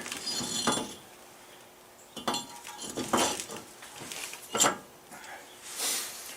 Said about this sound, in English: Okay, so now we can get this rotor on.